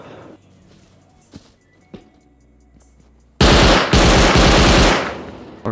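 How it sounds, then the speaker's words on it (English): An automated turret in the game Rust opens fire in a loud, sustained burst of rapid shots for about two seconds after quieter moments with a couple of distant pops. "Okay, that's a nasty turret over there."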